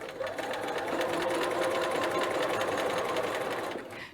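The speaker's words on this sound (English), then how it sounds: "we are going to just start stay stitching" A sewing machine stay stitches the neck edge of a dress with a steady, fast mechanical whir and rapid needle clatter, close and continuous for about four seconds before stopping.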